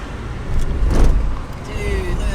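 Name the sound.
car driving past on a road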